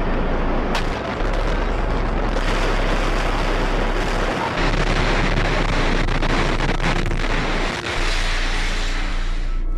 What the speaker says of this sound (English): A huge explosion now.